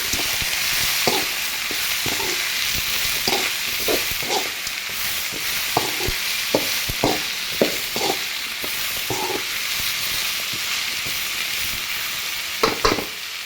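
Turmeric and salt stirred into frying ivy gourd in a pan, with a steady sizzle under repeated short scraping strokes of a spoon through the vegetables.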